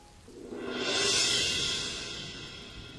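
Rain falling in a Bengali cartoon, a broad hiss that swells in over the first second, peaks, then settles into a steady, fairly loud wash with no voices.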